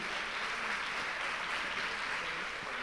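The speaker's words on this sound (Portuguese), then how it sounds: "Mais uma vez aplauda Jesus." Church congregation applauding, a continuous wash of clapping that fills the whole moment at an even level, with faint voices murmuring underneath.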